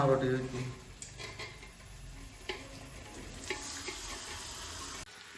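Sliced onions stir-frying in a pan in a village kitchen, a steady soft sizzle with intermittent scraping and clinks of the stirring utensil, under a speaking voice.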